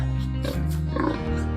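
Loud, close pig oinks and grunts in a continuous run lasting about a second and a half, with no talk over them.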